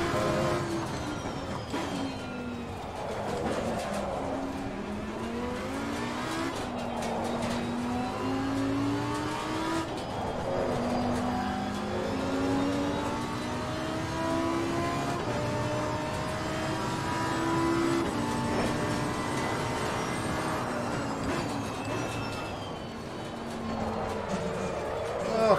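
A sluggish race car engine in the VR racing game Assetto Corsa Competizione drones and rises through low revs over repeated accelerations and shifts on a tight track, steady and close, with someone talking over it.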